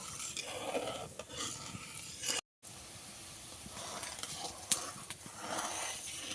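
Sugar being stirred in water in a pan to make thin syrup for gulab jamun: continuous scraping and swishing strokes with a hissy texture, broken by a brief gap and a sharp clink.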